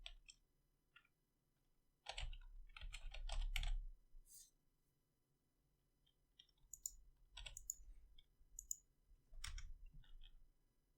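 Quiet bursts of keystrokes on a computer keyboard while typing code, short clattering runs separated by pauses, with a faint background hum.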